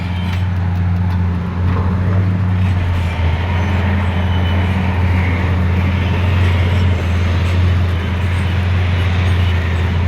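A Caterpillar CAT D11T bulldozer engine drones at a mine site, a loud, steady low rumble with a constant hum that runs unbroken throughout.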